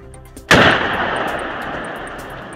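A single loud firearm shot cracks close by, followed by a long fading echo that trails off over the next two seconds.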